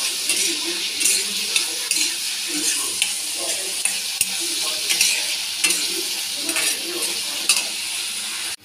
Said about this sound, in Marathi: कांदा चांगला परतून घ्यायचा, मस्तपैकी नरम होऊ द्यायचा